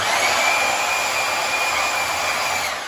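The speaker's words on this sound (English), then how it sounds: "I'm going to take the bandsaw and I'm going to cut not quite halfway through the metal." A bandsaw cuts partway into a piece of metal clamped in a vise for a scale John Deere 145H plow build, giving a steady, loud, hissing whine that holds evenly for about three seconds.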